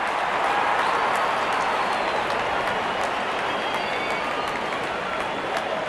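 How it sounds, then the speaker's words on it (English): Cricket crowd at an England versus Nepal T20 World Cup match applauding a batsman's fifty, a dense, steady roar of clapping and cheering that fills the whole stretch without letting up. "Wonderful 50 and the crowd applauds."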